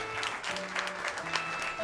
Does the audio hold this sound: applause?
yes